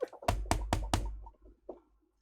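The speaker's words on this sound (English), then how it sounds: "You hear a knock at the door." Four firm knocks on a door in quick, even succession, loud and close, followed by faint rustling and a brief soft thump in an otherwise quiet room.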